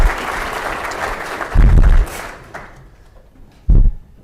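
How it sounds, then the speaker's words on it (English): Audience applause at an IT professionals' infosec night with a Symantec CEO keynote: a broad clapping wash that fades out, with bumps of low rumble partway through and near the end. "Please give him a round of applause."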